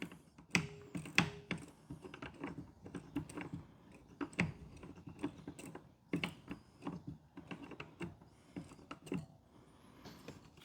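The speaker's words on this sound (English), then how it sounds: "It's gonna click every about inch of rotation of string." Irregular series of small mechanical clicks and ratcheting ticks from a fishing line spool on a Wizard FCS kayak system as it is turned by hand, close and quiet with short pauses between bursts.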